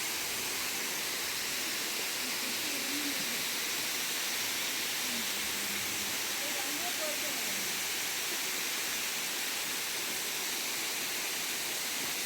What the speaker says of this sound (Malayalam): ഇതാണ് പെരിയക്കുത്ത് വാട്ടർഫോൾ